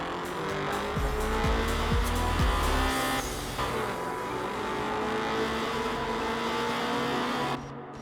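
Racing-game car engine from Night Runners, a steady loud drone with rising and falling revs, a few low thumps early on, and tire noise, running throughout before cutting off abruptly near the end.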